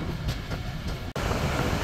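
Titumir Express pulling out of Domar railway station, a steady loud rumble of rolling rail cars with a brief dropout near the middle, no voices.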